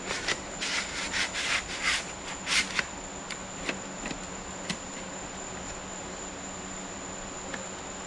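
A metal ring compressor is worked down over the piston rings during piston assembly. A few short scraping, rubbing bursts come close together early on, then only faint scattered ticks over a quiet background.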